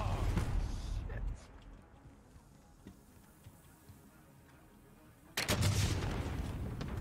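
Gunfire in a Call of Duty match comes as loud bursts of shots near the start and again toward the end, with quieter scattered pops between them and people talking throughout.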